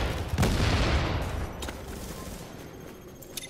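Gunfire in a video game, a loud dense burst of shots fading into a rumbling tail, with a few sharper cracks near the end.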